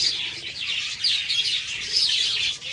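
Pet budgerigars (budgies) keep up a dense, steady chatter of high, rapid chirps and tweets, close and continuous, with no voices.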